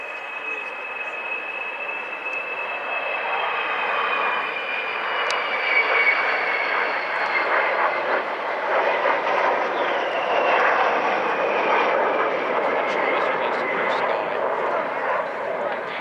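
The jet engines of the Avro Vulcan XH558 bomber roar at Bournemouth Air Festival 2014. The sound is a loud, sustained drone with a slowly shifting whine, heard alongside announcer commentary.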